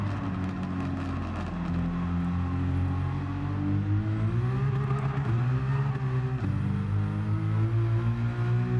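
A Lexus RC F with a swapped engine in Gran Turismo 7 drives a lap, its engine droning loud and constant with rising and falling pitch through gear changes and acceleration, with no talk.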